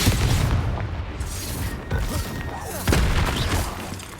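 Confringo spell blasts in Hogwarts Legacy, heavy booming explosions that roll into one another over a dense battle din, loud and close with little space between impacts.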